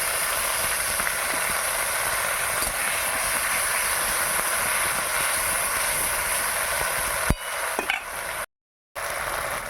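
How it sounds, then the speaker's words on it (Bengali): Onion and spices sizzle steadily in a hot pan, a continuous frying hiss with faint stirring scrapes, dipping briefly near the end before resuming. "পেঁয়াজ ভাজা হয়ে গেছে এবার মশলা দিয়ে দিলাম"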